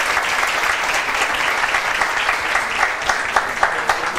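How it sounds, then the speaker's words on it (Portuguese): A studio audience at a Brazilian TV show claps steadily in a full, even round of applause that carries on without a break. "Palmas, galera."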